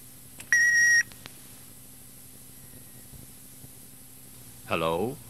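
A steady electronic answering machine beep sounds once for about half a second near the start, a clear flat tone followed by faint background hiss, with a brief warbling tone later.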